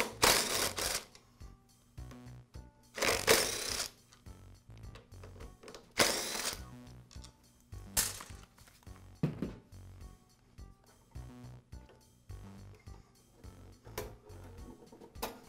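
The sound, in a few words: removing screws securing a Briggs & Stratton primer base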